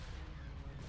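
Laser cannon fire in a Star Wars space battle video game, a Republic fleet fighting the Banking Clan: a brief, dense wall of overlapping blasts and booms, loud and continuous for under a second.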